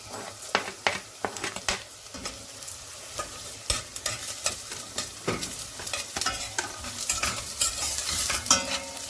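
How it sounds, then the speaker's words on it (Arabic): Onion and garlic stir and sizzle in olive oil in a pan, with a steady frying hiss under repeated close scraping and clattering strokes of a spoon. "ننزل ثوم بعد ما دبل معنا البصل، نخلط شوي، ننزل زيت زيتون."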